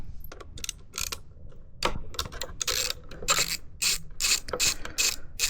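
A hand ratchet backs fairing bolts out of a 2025 Ducati Panigale V2, giving close, crisp bursts of rapid clicking separated by short pauses, with no voices.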